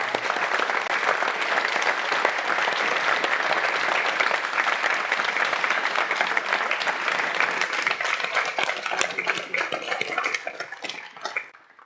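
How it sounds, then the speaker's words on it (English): A room full of listeners at a talk by a Holocaust survivor gives a long round of applause, dense and steady for about ten seconds before quickly tapering off to silence. "So let's give a round of applause for him."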